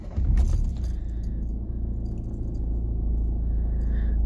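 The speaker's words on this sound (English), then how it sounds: "6-speed manual gearbox, and we'll start the car up." A 2014 Nissan Juke Acenta Premium 1.5 dCi diesel with a six-speed manual gearbox: a short, close jingle of keys, then the engine starts and settles into a steady low idle rumble.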